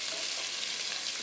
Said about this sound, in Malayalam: പച്ചമുളക് ചേർത്ത് ഇളക്കുക.